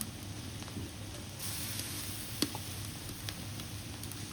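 Ginger and garlic paste sizzles in a pan of fried onions, a steady low frying hiss with a few soft pops and a brief scrape near the middle, fairly quiet and close.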